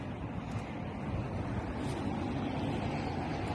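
Steady, loud wind roars across the microphone while riding a Honda CB 125 F motorcycle on a hot day, a continuous buffeting rush without pauses or voices.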